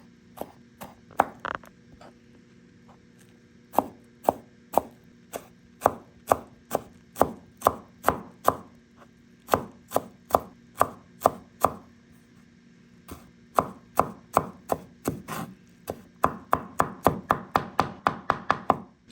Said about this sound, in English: if you think it's not fine enough, you can do more chopping